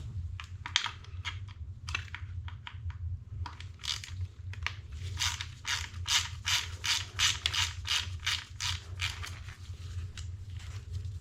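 A ratchet wrench loosens 13 millimeter bolts on a 7.3 Powerstroke diesel engine, with close, quiet bursts of rapid clicking that grow into a steady run of evenly spaced ratcheting strokes.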